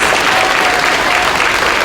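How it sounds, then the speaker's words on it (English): Audience applause at a school concert for third and fourth graders, a dense, steady wash of clapping that fills the hall at full volume for the whole stretch, with no voices on top. "let's give him a big round of applause as our third graders prepare to join us"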